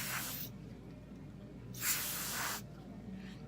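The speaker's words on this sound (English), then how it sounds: "you can just keep coming back in here and spraying the color out" Color being sprayed through a nozzle onto tiles in bursts: two clear hissing sprays, a short one at the start and a longer one near the middle, with a fainter puff at the end over a low steady hum.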